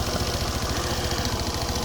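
A modified motorcycle idles through a stock-looking original exhaust with an aftermarket header and the catalytic converter removed, giving a steady, close, low thrumming pulse with no talk.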